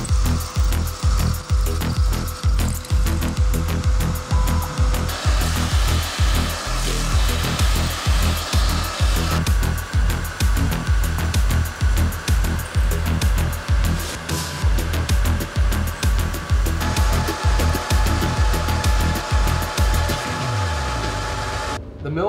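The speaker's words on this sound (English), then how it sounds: "The mill made quick work out of all those holes." A CNC mill drilling holes in aluminum grinds and chatters steadily, with rapid repeated cutting pulses and a sustained mechanical whine, loud and close throughout.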